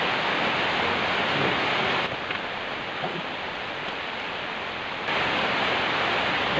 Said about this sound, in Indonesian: ini hujannya cukup mulai lebat nih